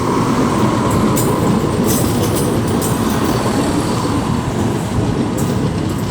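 A loud, steady rumble of a four-carriage Class 175 train running close by at Wolverhampton station on the West Coast Main Line, with faint high wheel squeal and clatter over the continuous roar.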